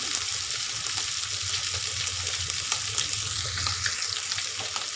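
Fish shallow-frying in hot oil in a pan, a steady dense sizzle and crackle lasting throughout, close and fairly loud with no talking.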